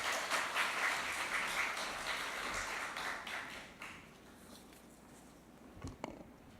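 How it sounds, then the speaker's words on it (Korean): Church congregation applauding to welcome a visiting pastor, many hands clapping steadily for several seconds before thinning out and fading, with a couple of soft knocks near the end. "환영의 박수로 맞이해 주시면 감사하겠습니다."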